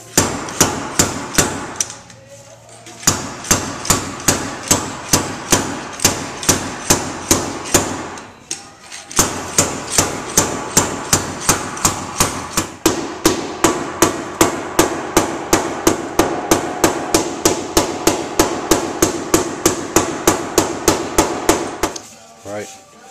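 Hammer blows strike the inside of a metal tank shell to dome it outward, a steady rapid run of loud ringing metallic hits broken by two short pauses.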